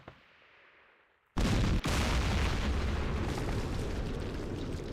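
Units open fire in the Campaign Series: Middle East Yom Kippur War game, a sudden loud blast after quiet, then a sustained roaring rumble of artillery and explosions that carries on without pause.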